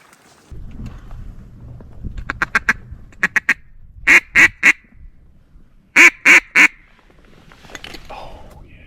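A flock of ducks quacks loudly and close in the Midwest during a hunt, in rhythmic runs of three to four calls over a low rumbling background.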